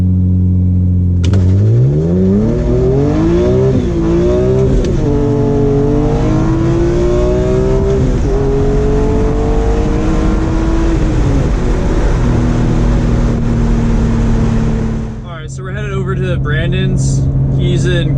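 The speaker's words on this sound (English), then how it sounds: "I'm gonna do a launch for you guys." A BMW E46 M3 engine revs hard during a handbrake launch, climbing in several loud surging steps and holding a high wail before dropping off with gear-change crackle at the end.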